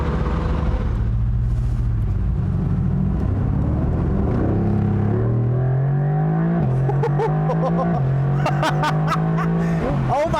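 A 2020 Mercedes-AMG GT R Roadster accelerates hard in sport mode with its exhaust baffles open, a loud deep engine note climbing through several gears with sharp shifts and crackling pops toward the end.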